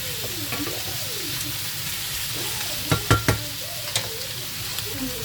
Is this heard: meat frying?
yes